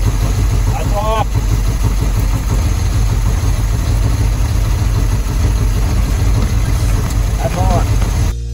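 A boat engine runs loud and steady with a constant mid-pitched drone during a spark plug cylinder test, with brief voices briefly audible over it.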